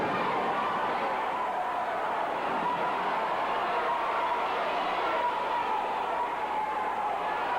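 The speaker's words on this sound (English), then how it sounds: "You could hear the crowd. They are solidly in the corner of Scott Armstrong." Wrestling arena crowd cheering for Scott Armstrong at a 1985 championship wrestling event, a steady dense roar of many voices that holds evenly throughout at a moderate distance.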